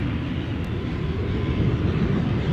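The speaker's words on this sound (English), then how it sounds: "Sounds like our A321 is spooling up" Jet engines of an Airbus A321 spool up at an airport, a steady broad roar and rumble heard from a distance, even in level, with no voices.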